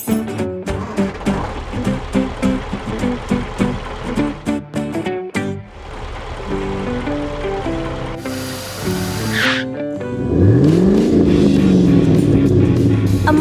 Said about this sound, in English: The modified car rushes past, leaving black smoke.